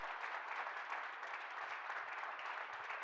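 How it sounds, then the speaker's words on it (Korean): Steady applause from a large congregation at a church service fills the whole stretch, a dense even wash of clapping at moderate distance. "하나님께 큰 박수를 드립시다."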